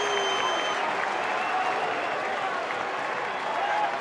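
A Fenway Park baseball crowd roars and claps with two outs in the bottom of the eighth as the Red Sox bring the tying run to the plate, a broad sustained swell of cheering and applause around the listener.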